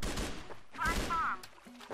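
Short bursts of M4A1 S Red rifle fire in the CrossFire shooter, close gunshots mixed with game effects and a voice talking over them.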